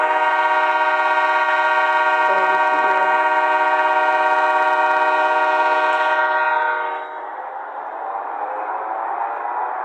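At a train parade, a loud, steady horn blares from a passing train for several seconds, then cuts off and leaves the rolling rumble of the train going by up close.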